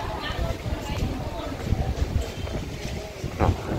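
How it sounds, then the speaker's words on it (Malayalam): Strong wind buffeting the microphone at Pollachi railway station, a steady low rumbling roar with gusty surges, while voices talk over it. "നല്ല കാറ്റുണ്ട് കേട്ടോ."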